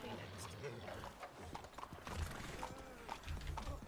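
Horse hooves clip-clop with a brief whinny in Red Dead Redemption 2, mixed with game sounds while people talk over it.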